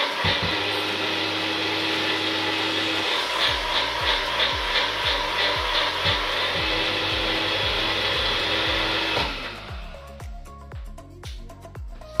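An electric grinder whirs steadily as it grinds dried chillies into powder, its motor pulsing with rapid rhythmic knocks, then the tone drops and slows into spaced clunks as it winds down near the end.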